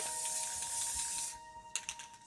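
A steady, hissing spray of white paint runs for over a second from an aerosol can onto canvas, then stops, followed by a few light clicks and rattles.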